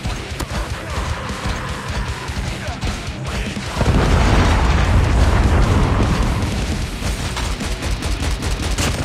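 Predator missile strike in Call of Duty multiplayer gameplay, heard as a sudden deep boom swelling out of dense ongoing gunfire and battle noise, with the rumble lingering under continuous shots.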